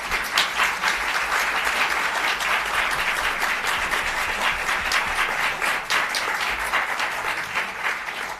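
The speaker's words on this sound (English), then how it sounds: "One more round of applause, please." Audience applause at a nuclear fusion press conference, a dense, sustained wash of many hands clapping that stays loud and even throughout, with no voices over it.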